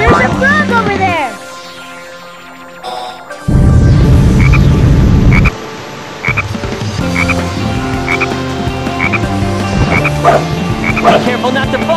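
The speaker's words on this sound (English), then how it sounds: "There's a frog over there!" Croaking frogs in the Frog Forest stage of the video game Sonic Heroes, repeated loud croaks over synthesized game music, sound effects and shouted character voice lines.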